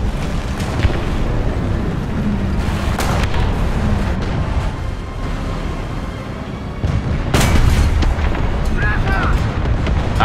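A tank cannon fires in War Thunder: a loud booming blast lands amid constant engine rumble and battlefield noise, with a few sharper cracks earlier, and someone talks over part of it.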